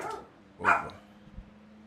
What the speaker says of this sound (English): My dog just sounds enraged.